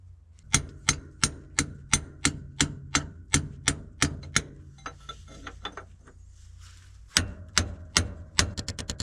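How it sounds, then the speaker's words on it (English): Steady series of sharp metallic hammer blows on a seized bulldozer clutch, close and loud, about two per second, then a short pause before faster strikes resume. "oleks hea, kui saaks siitpoolt lüüa"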